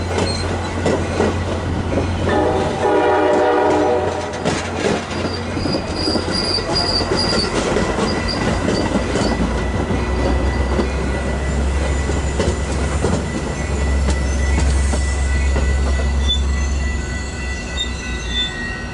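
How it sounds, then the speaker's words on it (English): A Chicago-area Metra commuter train with MP36 locomotive 405 rumbles steadily past up close, wheels clattering and squealing on the rails, with a heavy low engine drone building toward the end. "we once again see the metro train with MP36 number 405 headed outbound"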